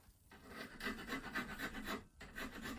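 Hand file rasping steadily across a small piece of scrap metal while sharpening the point of a homemade half-diamond lock pick, a run of close, even back-and-forth strokes with a brief pause midway.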